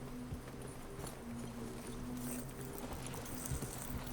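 Horse hooves clip-clop at a steady walk in the Red Dead video game, a soft repeating patter of several horses under a low ambient hum, moderately faint and without talk.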